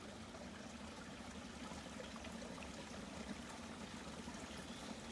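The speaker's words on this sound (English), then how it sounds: "You can see here, the stream runs right down behind me." A small stream runs through marshy, mossy woods, its steady trickle and gurgle holding at an even level throughout with no voices.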